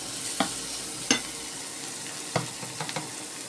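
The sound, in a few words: chopped ginger added to sizzling pan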